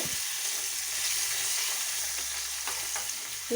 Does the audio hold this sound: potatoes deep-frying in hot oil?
yes